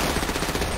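GTA V gunfire rattles in a dense, continuous burst, loud and close, filling a brief moment.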